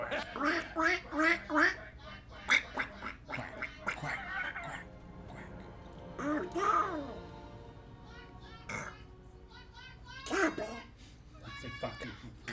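Cartoon ducks from Gravity Falls quacking in a rapid, bouncy series of nasal calls, with voices joining the quacking and chatter breaking in between bursts.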